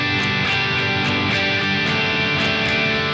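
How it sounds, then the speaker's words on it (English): Electric guitar plays the eighth-note chorus section of a song: dense, loud chords driven in a steady pulsing rhythm throughout, with no talking. "It's the 8th note section that sounds like this."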